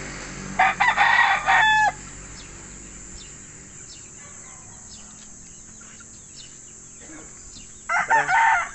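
Chickens crow and cluck loudly in two short bursts, at the start and again near the end, with a quieter stretch of farmyard ambience and faint bird calls between them at a poultry farm.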